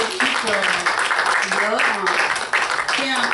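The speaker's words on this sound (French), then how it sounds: "je vais vous demander de les applaudir" An audience applauds a team at an event, a steady dense wash of clapping that runs the whole time underneath someone speaking French.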